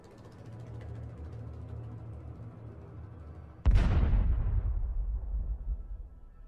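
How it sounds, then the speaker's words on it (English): A HIMARS missile strike on a Russian convoy bursts as one sudden heavy blast after a low distant rumble, then a long rolling roar that fades slowly. "HIMARS missiles destroyed enemy equipment and almost all enemy manpower"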